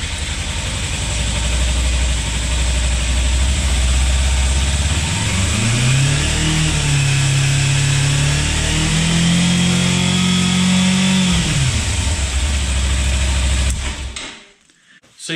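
A Kawasaki Versys-X 300 motorcycle on its stand, engine idling loudly up close, then revved and held at higher speed for several seconds before dropping back to idle and cutting off near the end.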